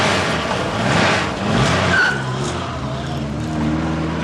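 A car in a 1970s-80s crime drama starts up and pulls away, tyres squealing briefly before the engine settles into a steady drive-off hum, loud and close with no talk.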